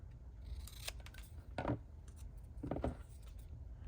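Scissors snipping a small paper ephemera snippet for a layered craft tag, two distinct close cuts about a second apart, quiet and without talk.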